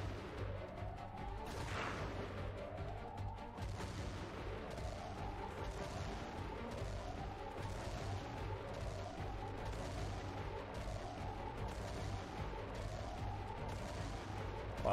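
Gunfire in the strategy game Xenonauts 2 during an air battle with a scout UFO, heard as dense, steady repeated shots and booms over a constant engine-like drone with repeating whooshes, loud throughout.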